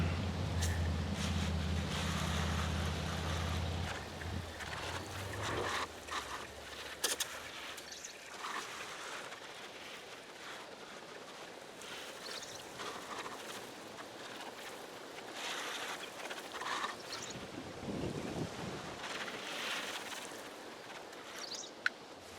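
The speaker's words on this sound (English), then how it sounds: "Let's see what happens now when I water it in." Water sprinkles steadily onto tree seedlings in a raised nursery bed, a soft, continuous outdoor hiss with faint wind that begins after a low rumble fades in the first few seconds.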